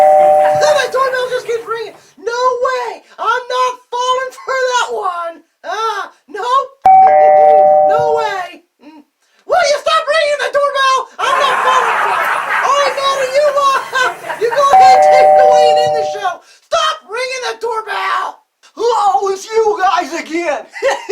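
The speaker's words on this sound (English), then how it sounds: "My doorbell just keeps ringing." A house doorbell rings again and again, several separate chimes spread through long stretches of lively talking and chuckling.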